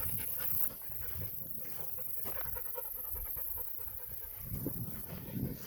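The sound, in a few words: dog panting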